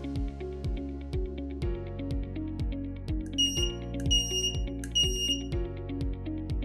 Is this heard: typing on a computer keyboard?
no